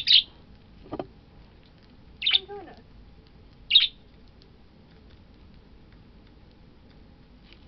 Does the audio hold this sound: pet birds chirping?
yes